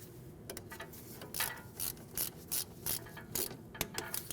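A ratchet wrench clicks in quick bursts while tightening a 12mm brake hose bolt on a 2012-2016 Honda CR-V during front control arm replacement, close and fairly quiet with short pauses between strokes.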